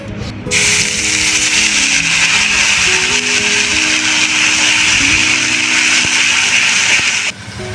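A kitchen mixer grinder whirs steadily at full speed, grinding dry-roasted cumin, coriander, mace, cardamom and cinnamon into a paste, loud and continuous before cutting off near the end.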